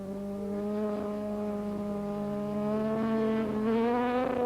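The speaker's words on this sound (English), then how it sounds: "You heard it on the rev limiter there as he snatches the gears" Trevor Nation's racing motorcycle at the 1991 Northwest 200 road race, a high steady engine whine that holds near the rev limiter with brief stutters as gears are snatched, close and continuous without any talk.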